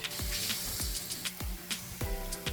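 Onion sautes in a pan for a plant-based coconut chickpea curry, giving a steady, moderate sizzle broken by repeated sharp clinks and taps from a utensil at an uneven rhythm. No talking.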